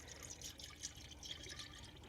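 Coolant pours into the small radiator of a Geo Metro, a close, steady liquid gurgle and trickle with light dripping, faint and continuous with no talk.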